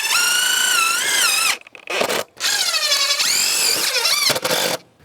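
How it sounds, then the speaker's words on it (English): A power drill drives screws through trim into wall sheathing around an inset window, using the same screws as the siding panels: two long, rising, whining bursts with a short gap between them, loud and close. "and screw this into the sheathing."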